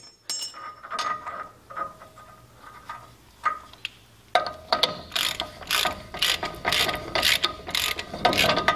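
Ratchet clicks while tightening the inner lock nut on a Dana 44 wheel bearing of a Full Size Jeep, starting with sparse light ticks, then a steady run of close, louder ratcheting strokes.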